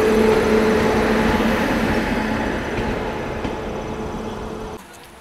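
The Veraval–Jabalpur Express pulls away from Bhaktinagar station, a loud steady rumble of rolling wagons and wheels on track that eases and fades toward the end.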